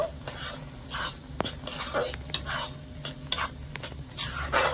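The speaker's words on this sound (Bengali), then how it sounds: "এক চামচের মতন ঘি দিয়ে দিচ্ছি ভালো করে মিশিয়ে নেব" A laddoo mixture of mango and milk is stirred with ghee in a pan, making repeated raspy scraping strokes with occasional light metallic knocks, close and steady, with no talking.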